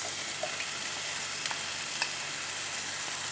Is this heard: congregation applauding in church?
no